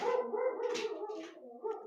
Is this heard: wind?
no